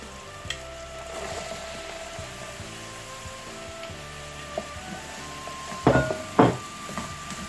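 Vegetables stir-frying in a pan for chicken fried rice, a steady soft sizzle with light scraping and stirring, plus a few sharper clatters of the spatula near the end.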